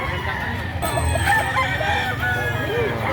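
A rooster crows over the steady hubbub of a Batangas chicken market, with clucking fowl and voices of people talking throughout.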